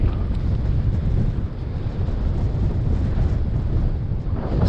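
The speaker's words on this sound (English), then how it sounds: "It's pretty windy," Strong, loud wind roars across the microphone near a mountain summit in Wales, a constant heavy rumbling buffet with slight surges and no speech.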